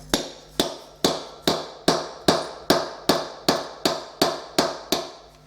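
A steel chisel is tapped again and again to work under and lift a ceramic floor tile, giving about a dozen sharp, evenly spaced metallic knocks at close range, each ringing briefly before the next, with no voices.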